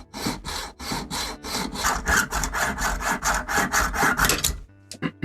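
Hand saw working through a cherry burl knife handle, steady rhythmic rasping strokes repeated about a dozen times over several seconds, close and loud, cutting on the back stroke, ending in a few scrapes.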